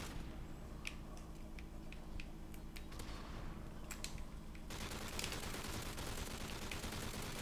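Gunfire from the video game MW3 Survival aimed at a juggernaut enemy, a run of sharp shots in irregular bursts at moderate level over a constant game background.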